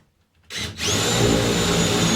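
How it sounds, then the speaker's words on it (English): A power drill revs up sharply and then whines steadily at high speed as it bores into wood for a hunting blind window, loud and close. "What we've been doing is taking the drill."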